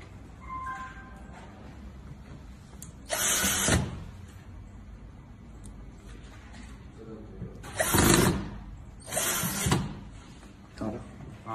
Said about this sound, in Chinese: 刚刚这边打的孔，然后上螺丝，把这两个转角，把这个后背跟侧面的背板给固定好。